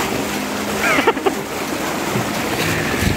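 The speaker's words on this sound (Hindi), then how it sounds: "वो बोट गई है ना इसलिए पानी वो लहर आ रही है" Small river waves washing in after a passing boat near Rishikesh, a steady watery wash with wind noise on the microphone and a few brief tonal chirps.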